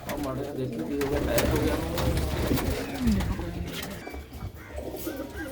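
Pigeons at a loft in Kartarpur coo softly and continuously, with people talking over the birds throughout.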